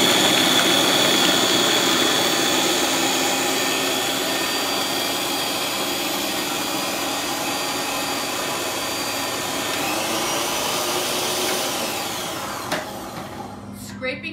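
A blender purees cauliflower and cashews with soy milk in a steady, loud, continuous whir that runs for most of the stretch, then cuts off and falls quiet near the end.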